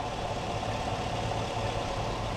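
A 2020 GMC Sierra 1500's 5.3 liter V8 idles steadily under the hood, a constant low rumble with a faint even hum and no other sounds.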